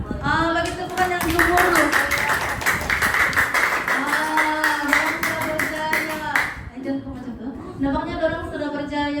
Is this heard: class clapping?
yes